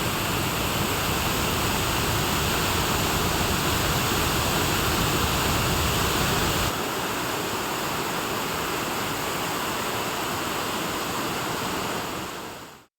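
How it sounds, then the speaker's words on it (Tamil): Floodwater roaring down the Panchalinga waterfall near Udumalai, a dense, steady wash of rushing water that stays loud throughout, thinning slightly partway before cutting off at the end. "இதேபோன்று உடுமலை அருகே உள்ள பஞ்சலிங்க அருவியில் வெள்ளம் கரை புரள்கிறது."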